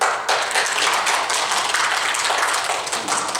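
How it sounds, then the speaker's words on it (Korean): A congregation at a church service bursts into steady applause, a dense wash of many hands clapping at once, fairly close and continuous for a few seconds. "우리 영광의 박수."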